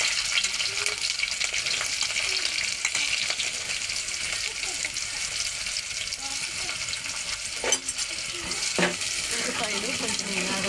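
Green chillies and onions fry in a pan with a steady, loud sizzle throughout, broken by a few brief clinks and a splash of water near the end.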